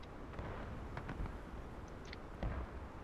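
Artillery fire in the video game The Blue and the Grey, a few faint, distant thuds and booms scattered over a low rumbling background.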